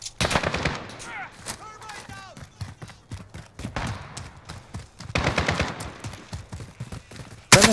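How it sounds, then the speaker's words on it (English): Video game gunfire crackles in rapid automatic bursts and single shots, close and loud, interrupted by someone talking in the middle of the exchange. "I was shooting at a friendly"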